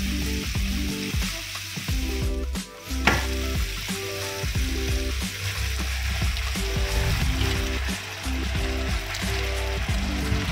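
Veal sweetbreads brown in a hot pan, sizzling and frying steadily and closely throughout, with a brief dip and a clink of stirring or handling partway.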